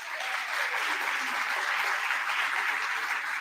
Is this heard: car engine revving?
no